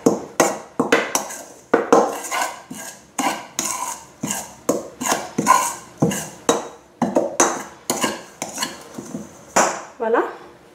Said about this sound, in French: Alors ensuite il faut mélanger